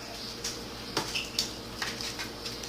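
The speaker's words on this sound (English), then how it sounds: "And spread it out over the bottom of the pan" A spoon spreads shepherd's pie filling over the bottom of a pan, giving soft, scattered scraping and light clinks of utensil on metal, quiet and close.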